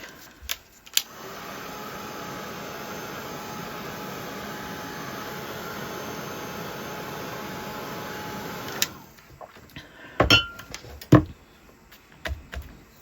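A heat tool drying paint on an artwork blows a steady whirring hiss for about eight seconds, close and even, then cuts off, leaving scattered clicks and handling noises.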